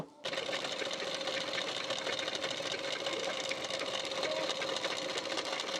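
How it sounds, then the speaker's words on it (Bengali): Sewing machine stitching a blouse sleeve onto its nylon lining part; a steady, close mechanical whir that starts after a brief pause and runs on without interruption, no voices. "এখান থেকে একটি চাপ সেলাই দিয়ে নেব"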